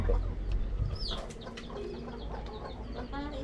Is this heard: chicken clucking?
yes